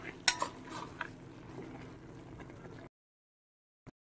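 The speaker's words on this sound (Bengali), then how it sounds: "দিয়ে একটু ভালো করে আলু পটল এর সাথে একটু নাড়ি চাড়িয়ে নেব।" A spoon stirs boiled mung dal into potato and pointed gourd in a pan, with close scraping and clinking and a couple of sharp metallic knocks early on. The stirring stops abruptly into silence, followed by one faint tap near the end.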